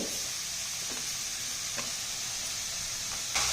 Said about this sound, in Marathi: ही साखर या खिसामध्ये कंप्लीट विरघळेपर्यंत एकसारखं हलवून घ्यायचं आहे